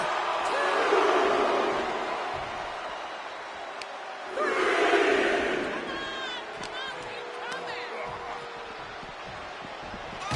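Crowd at an ECW wrestling match cheers and roars in two loud swells, rising again midway before settling, with a commentator talking over the noise.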